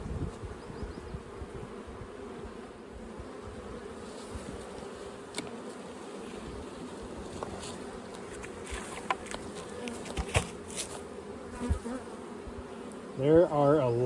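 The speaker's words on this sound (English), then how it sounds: "There are a lot of young bees on these frames." A dense, steady hum of many honey bees buzzing close up on hive frames, continuous throughout, with brief handling noises and a voice starting at the very end.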